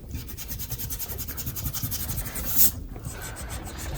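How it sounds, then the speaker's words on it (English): A pencil eraser rubs steadily back and forth on drawing paper, a soft, continuous scratchy friction close by and fairly quiet, with one brief louder swipe near the end. "this eraser is not the best, really"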